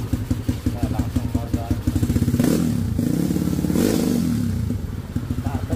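Yamaha Mio motorcycle with a 4S1M carburetor and 4-valve engine, idling close by with a pulsing clatter, then revved up twice in swelling roars before dropping back to a lumpy idle.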